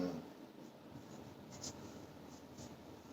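Chalk or marker writing on a board during a dynamics lecture, faint soft strokes over steady room hiss, a few brief scratches spaced across the moment.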